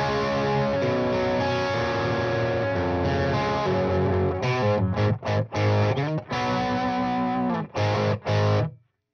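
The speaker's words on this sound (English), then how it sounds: "Even with the gain on 5 and 66, already kind of dirty, chunky rhythm tones." Electric guitar through a Metropoulos Metro-Plex amplifier with the gain on 5, breaking up into dirty, chunky rhythm chords, loud and sustained, then chopped into short stabbing hits with brief silences near the end.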